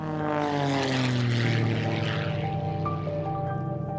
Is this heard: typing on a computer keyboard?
no